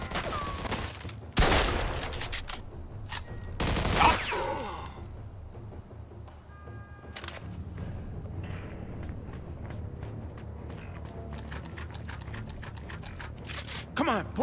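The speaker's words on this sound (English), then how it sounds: "They're shooting at me, for Christ's sakes!" Gunfire in a Mafia II video game shootout, several sharp bursts of shots that are loud and close, separated by quieter stretches with scattered clicks and impacts, while voices shout between them.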